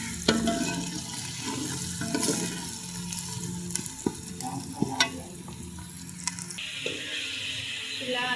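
Ginger and garlic paste frying in a pan, a close crackling sizzle punctuated by sharp spoon clinks and stirring scrapes, with a few faint background sounds.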